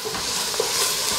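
Onion, celery, garlic and spices sauté in a pot with a steady, close hiss and a faint stirring scrape, continuous through the short moment.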